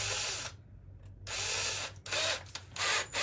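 A power drill bores into the plastic of a Halloween animatronic pumpkin in several short whirring bursts separated by brief pauses, close and fairly quiet, with no one talking.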